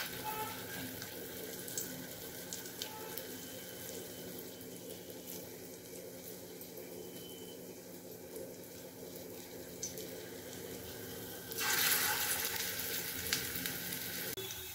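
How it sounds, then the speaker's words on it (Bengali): Pea lentil fritters fry in hot mustard oil, giving a soft, steady bubbling sizzle at moderate distance that grows louder and brighter near the end, with no speech. "গরম তেলে বড়াগুলোকে দিয়ে দিয়েছি।"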